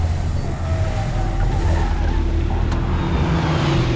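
A car engine in an action movie scene runs with a steady, loud, low rumble and hum that stays even and close for the whole stretch.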